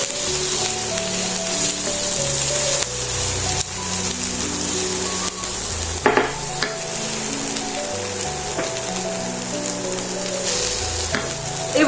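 Food sizzling loudly in a frying pan while being stirred, a continuous close hiss with a few scrapes of the utensil, and a tonal hum running underneath throughout; no voices.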